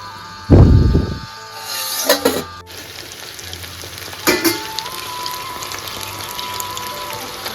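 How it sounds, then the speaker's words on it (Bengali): Pakoras sizzling and bubbling steadily as they deep-fry in hot oil, with a sharp splash as something is dropped in and occasional clinks and stirring. "একদম গরম তেলে টকবক করে ফুটছে পকোড়া"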